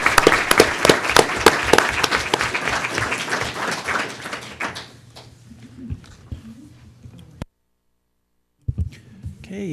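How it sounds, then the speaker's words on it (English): A round of applause at a school board meeting, dense rapid clapping from a room of attendees for about five seconds, then fading into scattered claps and quiet, with a brief pause before faint room noise resumes. "can we have a round of applause for all of these wonderful people?"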